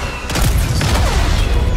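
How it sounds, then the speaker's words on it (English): Explosions and gunfire from the Star Wars Battlefront video game, with a dense, loud rumble of blasts and crackling shots that roll on continuously with no gaps. "the explosions in this game look so great"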